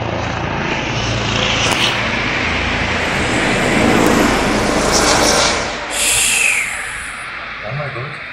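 Ambulance helicopter hovering over a rooftop in Berlin, its rotor and engine noise a steady broad roar that swells and fades, with faint voices in the background.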